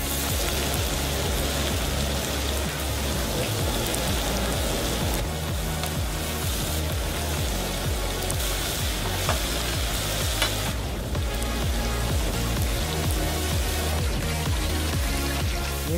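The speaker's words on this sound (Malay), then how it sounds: "Kita akan goreng sekarang." Oil sizzles and crackles steadily as wrapped dumplings deep-fry, a dense continuous bubbling with occasional stirring.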